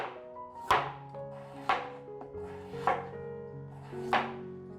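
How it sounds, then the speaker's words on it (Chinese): A knife slices through peeled carrots on a cutting board in four crisp, evenly spaced chops, each a sharp close tap against the wood with short pauses between. "把红萝卜切片"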